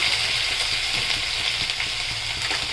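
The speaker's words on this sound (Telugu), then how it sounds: "బాగా వేగే వరకు కలపాలన్నమాట." A spice paste curry fries and gets stirred in a pan, giving a loud, steady sizzle with soft scraping stirs mixed in, close up and with no voices.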